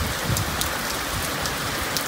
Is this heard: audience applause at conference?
no